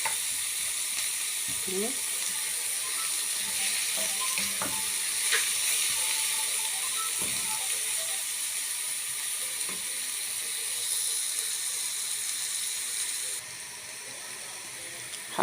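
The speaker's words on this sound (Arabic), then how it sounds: "خلينا نقلب كده فيه البصل اهو. احنا عايزينه ياخد لون" Onions frying in a pan while a spoon stirs them, a steady close sizzle with scattered scrapes and clicks from the stirring, and a brief spoken word near the start.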